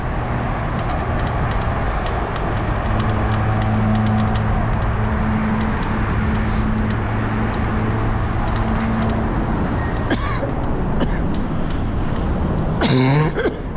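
Traffic roaring across the 210 freeway overhead, heard while riding a bike underneath: a dense continuous rumble of cars and trucks with a steady engine drone, fairly loud and close, and a brief clatter near the end.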